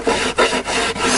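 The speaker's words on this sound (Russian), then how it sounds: "Вставляем прилетку, протираем мелиссой, и переднюю стенку тоже" Close, rhythmic rasping strokes of something rubbed across the wooden body of a bee trap, wiping it down with lemon balm, in three or four quick passes with short pauses.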